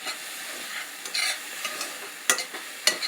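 Food fries with a steady sizzle in a greasy pan while being stirred and mixed, with scraping strokes and a couple of sharp clacks of the utensil, close and alone.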